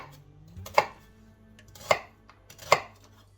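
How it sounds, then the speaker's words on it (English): Three separate knife strikes through half an onion on a cutting board, each a sharp close chop spaced about a second apart, with quiet between them. "A half of the onion, just to cut chunks"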